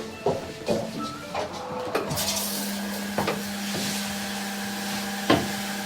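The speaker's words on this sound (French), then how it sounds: "le toilette nous détecte en fait et automatiquement le couvercle se lève" An automatic heated toilet lid in a luxury hotel bathroom lifts with a low steady motor hum, broken by a few faint clicks and knocks.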